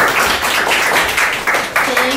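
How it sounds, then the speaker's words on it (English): An audience at a community history talk gives a round of applause, the clapping steady and fairly loud throughout with a voice mixed in. "So give her a round of applause."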